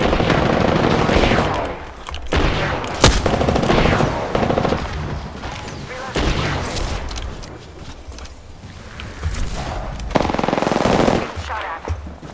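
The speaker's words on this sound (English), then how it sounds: "Getting shot at." Gunfire in the video game Apex Legends, heard as loud, close bursts of automatic weapon fire. The bursts repeat in rapid rattling volleys broken by short pauses across the whole stretch.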